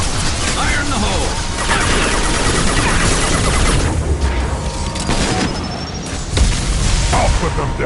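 Grenade blast and battle din in Mass Effect Legendary Edition: a dense, loud wash of gunfire, booms and mechanical clatter fills the scene, with a heavy thud near the end.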